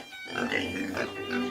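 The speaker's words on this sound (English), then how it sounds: "Everything is carefully arranged to transport happy pigs to the processing plant" Pigs in a ventilated, temperature-controlled transport truck bound for a processing plant: soft, close grunts and oinks that rise and fall over a steady low hum.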